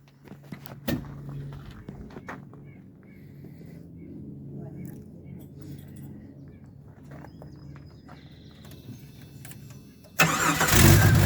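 After a stretch of quiet rumbling and faint voices, a car engine with an exhaust leak turns over and catches near the end, suddenly loud and close.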